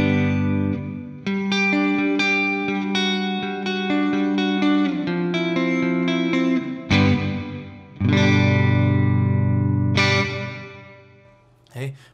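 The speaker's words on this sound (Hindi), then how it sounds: "प्लेट रिभर्बमा मैले 12 ओ क्लकमै राखेको छु" An electric guitar plays a riff through a NUX Atlantic delay and reverb pedal set to plate reverb, with the level at twelve o'clock. Sustained chords and single notes ring out with lush, lingering reverb tails between phrases.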